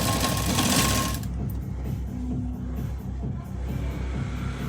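A sewing machine runs in a quick, rhythmic stitching burst as piping is sewn down through its center, loud at first and then continuing steadily at a lower level.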